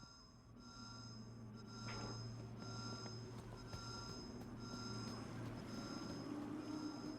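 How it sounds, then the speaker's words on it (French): An alarm in the video game Beyond A Steel Sky sounds continuously, a steady, droning tone with high electronic pitches that keeps going over a low background rumble. "il y a une espèce d'alarme qui sonne depuis tout à l'heure, c'est assez désagréable"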